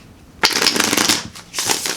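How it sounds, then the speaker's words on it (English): A deck of tarot cards is shuffled close by in two quick riffling bursts separated by a short pause. "shuffle and ask David, Source, Spirit, and Universe to please give us 3 messages for pile number 3 for love"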